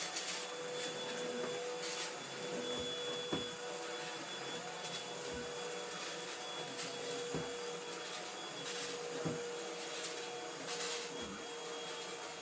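An Easine G50 cordless vacuum cleaner with edge brushes runs continuously at close range, a steady whirring drone with occasional bumps and scrapes as the head moves across the floor.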